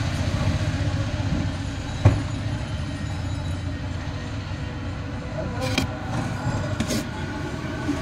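A train pulls into Sealdah station, a steady low rumble of carriages with a sharp clunk early on and a few brief squeals of wheels later, while faint voices murmur in the background.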